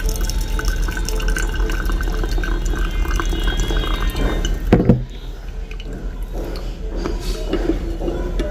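Hot water is poured over Ethiopian Foge coffee grounds in a V60 dripper, a steady close trickling stream that pauses briefly midway, then resumes with soft dripping and splashing.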